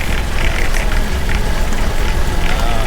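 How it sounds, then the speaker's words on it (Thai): Heavy rain pours steadily over rice paddies in late November, a dense, continuous hiss of drops close by with no break across the stretch. "ฝนมันแรงนะฮะ"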